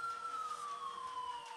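An ambulance siren in a mobile train game's story mode sounds as a single steady electronic tone that glides slowly downward, fairly faint and with nothing else around it.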